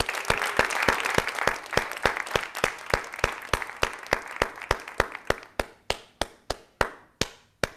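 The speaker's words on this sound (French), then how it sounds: "je vous invite à applaudir nos diplômés 2020 et 2021" Applause for the 2020 and 2021 graduates at a virtual graduation evening: sharp, evenly spaced claps in a steady rhythm, thick at first and then thinning to distinct single claps with short decays, close and without voices.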